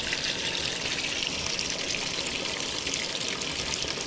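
Running water splashes steadily over a synthetic sleeping bag during a soap-free rinse, a constant close hiss and gush with no pauses or voices.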